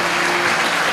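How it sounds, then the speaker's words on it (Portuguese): Church congregation applauding the Lord during a Portuguese-language evangelical sermon, a dense, steady wash of many hands clapping at full volume for a short stretch, with no voice standing out. "Aplauda mais forte"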